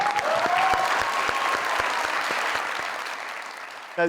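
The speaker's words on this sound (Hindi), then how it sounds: "इनके लिए बहुत सारी तालियां" Studio audience applauds the day's winner, Mehroz, on a comedy talk show: a steady, dense burst of clapping from a crowd, loud at first and gradually thinning toward the end.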